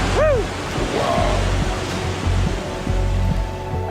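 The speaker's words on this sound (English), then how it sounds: "Rainy season is awesome in the Philippines because you can look at waterfalls just powerful and flowing." Powerful waterfall in the Philippines during the rainy season, a loud, continuous roaring rush of falling water with a brief vocal exclamation near the start.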